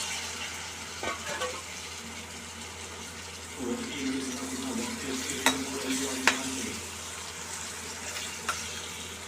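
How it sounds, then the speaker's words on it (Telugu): Bottle gourd pieces fry in a pan for curry with a soft, steady sizzle, broken by a few faint clinks and scraping stirs close by. "ఫ్రై చేసిన తర్వాత సొరకాయ ముక్కలను వేయాలి."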